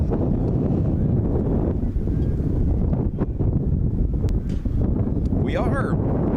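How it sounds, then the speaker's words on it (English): Strong gusts of wind buffet the microphone at an outdoor college baseball game, a steady low rumbling roar that rises and falls, with scattered voices and a brief whistle-like sound near the end. "The gusts continue."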